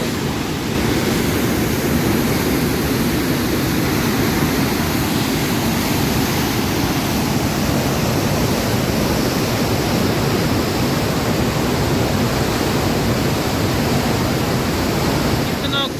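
Floodwater surges through the open gates of the Taunsa Barrage headworks as a thick, constant roar, close and loud from start to finish, with a voice faint beneath the noise.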